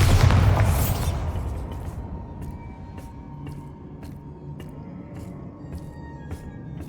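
A Bombarda spell explosion in the Hogwarts Legacy video game sets off a loud, deep boom that decays over about two seconds, followed by a quieter rumbling tail with soft regular ticks.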